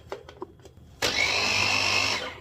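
A blender whirs on, mixing Kiri cheese cubes with milk for a crème caramel, after a few light taps and clatters; the motor kicks in abruptly and runs as a steady, loud whine until it winds down.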